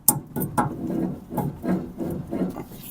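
An axle shaft slides into the Dana 30 front axle of a Jeep Cherokee XJ, with several close rubbing, scraping strokes of metal against metal, each followed by a brief pause, with no talking.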